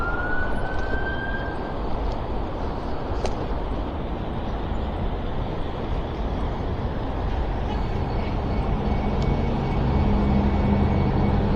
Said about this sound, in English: the AMR ambulance had its siren on